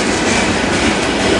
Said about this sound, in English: Wish that train wasn't so noisy outside, but what can you do when you live next to a rail yard?